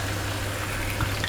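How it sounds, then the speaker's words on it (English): Half a bottle of red wine glugs from the bottle into a pot of stew with tomato puree, a brief steady splashing pour heard up close. "Then our half bottle of red wine."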